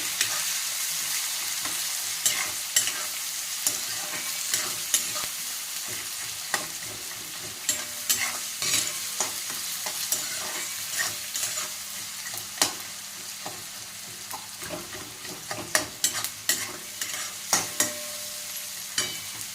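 Onions frying in a pan for a Marathi upma-style dish, stirred steadily, give a continuous sizzle with repeated sharp scraping clicks of the spoon against the pan throughout.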